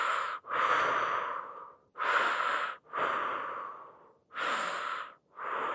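Slow, deep breaths during a fascial stretching class, loud and close: long airy inhales and exhales come in a steady rhythm of about four breaths with brief pauses between them and no talk.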